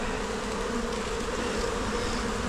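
Honeybees buzz steadily in an open poly nuc hive during an inspection. The buzzing is close, dense and continuous throughout, with no talking.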